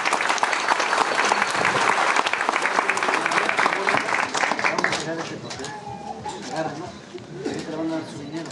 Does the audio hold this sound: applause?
yes